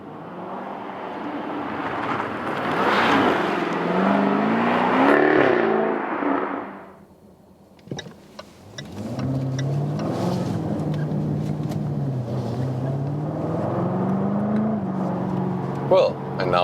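A 2020 Jaguar F-TYPE V8 P450 convertible with its top closed accelerates hard, the V8 roaring and climbing through gears, briefly dropping away before surging again, with someone talking over the engine.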